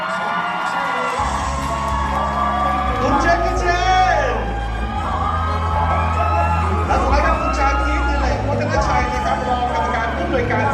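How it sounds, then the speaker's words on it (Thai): A crowd screams and cheers at a stage event during a Thai series ceremony, loud and continuous throughout, with whoops and shouts over a steady low hum. Someone talks through a microphone across the din. "ทุกคนนะขอเสียงกรี๊ดดังๆครับให้กับผู้ จัดของเราครับขอเสียงกรี๊ดดังๆต้อนรับคุณแซมซูเปอร์โบว์"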